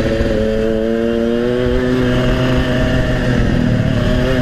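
A Yamaha RX King two-stroke motorcycle engine revs steadily and loudly up close, with a continuous buzzing tone that rises and falls slightly across the whole stretch, with no talking.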